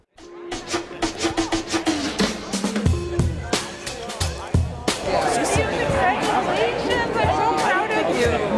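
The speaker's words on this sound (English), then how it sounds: "A robust crowd here at Milwaukee's Oriental Theater for the premiere" Crowd chatter at a film premiere at Milwaukee's Oriental Theater, a busy babble of many voices filling the space, with a talker up close early on before the hubbub swells and runs on steadily.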